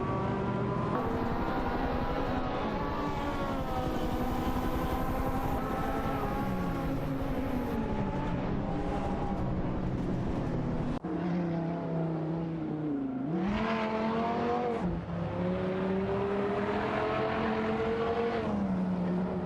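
Race car engines in Assetto Corsa, among them a V16 and Porsche 928 GTEs, wail continuously with pitch sweeping up and down through gear changes, several engines layered and loud.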